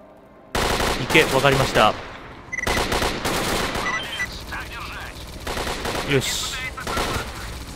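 Rapid bursts of machine gun fire in the S.T.A.L.K.E.R. Clear Sky shooter, loud and close, repeating in clusters over several seconds with short pauses, while voices speak briefly in between.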